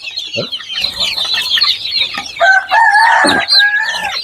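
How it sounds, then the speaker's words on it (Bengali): Chickens cluck and squawk close by on a poultry farm of hill and local breeds, a busy overlapping chorus of hens with a louder drawn-out call toward the end. "এই নিচে মুরগি আছে"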